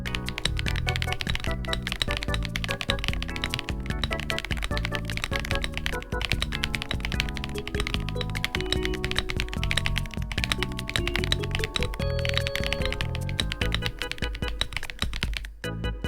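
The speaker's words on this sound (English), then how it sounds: "I'll give you guys a real quick sound test of the keyboard so you can hear for yourself" Fast, steady typing on a Redragon K762 Terraflare Pro full-size mechanical keyboard, the dense clacking keystrokes close and loud throughout with no pause and no voices.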